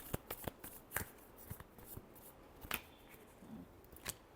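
A deck of tarot cards is shuffled by hand, giving soft riffling flicks and sharp snaps in short irregular bursts, close but quiet, with no talking.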